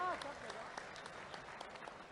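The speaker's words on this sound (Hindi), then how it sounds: "जोरदार ताली बजाओ तो ऐसी लगे कि हां लग रही है।" Crowd applause at an outdoor political rally in Ujjain, where a road foundation ceremony is under way: a steady wash of clapping from many hands fills the whole stretch at moderate level, with a brief voice at the start.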